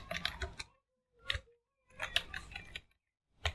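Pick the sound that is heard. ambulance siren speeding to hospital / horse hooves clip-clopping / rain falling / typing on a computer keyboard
typing on a computer keyboard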